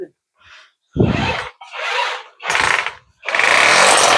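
An electric drill boring an extra drainage hole in a tile-like surface, heard in several harsh bursts of varying length, close and loud, separated by short pauses.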